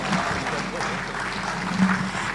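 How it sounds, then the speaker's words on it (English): Audience applause at a business leadership forum, a steady wash of clapping from a large crowd, fairly loud and sustained throughout. "If you're clapping for her, please do it well."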